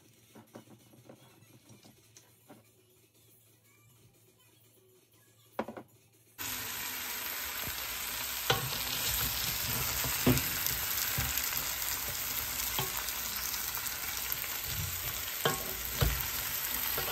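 Garlic frying in oil starts after a quiet stretch with a brief clatter, then a loud, continuous close sizzle and crackle with small pops that carries on steadily to the end.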